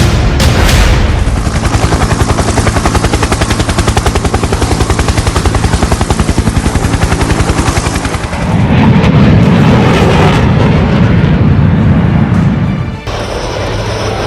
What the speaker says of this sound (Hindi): आसमान में गरजते लड़ाकू विमान देश के दुश्मनों को क्लियर मैसेज है